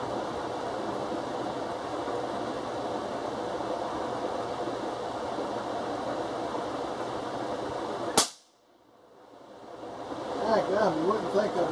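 A Ruger Ranch 5.56 rifle fires a single sharp, loud shot at a target on a range, cutting through steady background noise, followed by a moment of quiet as the ambience returns.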